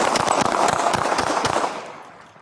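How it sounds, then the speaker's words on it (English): A burst of rapid gunshots during a police encounter, captured on a bodycam as dense, fast cracks that fade over the last second. "shots fired"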